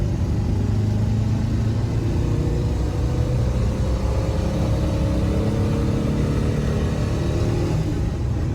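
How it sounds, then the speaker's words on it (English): A restored Porsche 914 on a test drive, its engine rumbling steadily with a constant low drone and road noise throughout, no voices. "So we roughly aligned the car ourselves so we could take the car for a proper test drive"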